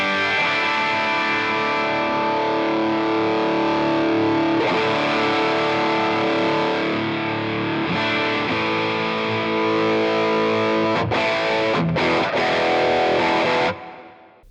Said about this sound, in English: now we're getting some of those out of phase type tones